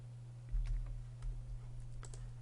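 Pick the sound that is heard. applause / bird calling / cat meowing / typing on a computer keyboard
typing on a computer keyboard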